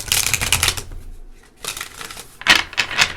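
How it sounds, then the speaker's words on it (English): Plastic-coated oracle cards from the Wisdom of the Oracle deck being shuffled by hand, a few close, quick bursts of rustling and flicking with short pauses between them, no talking. "They're just a little, like, kind of plasticky, a little sticky to shuffle"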